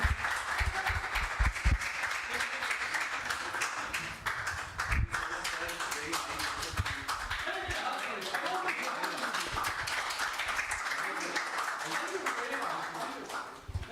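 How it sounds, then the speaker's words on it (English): An award-ceremony audience applauds the finalists with sustained, even clapping that carries on for a while beneath scattered voices and crowd noise. "come on, louder applause for these people"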